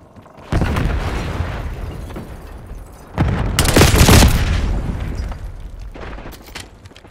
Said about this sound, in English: Semtex thrown.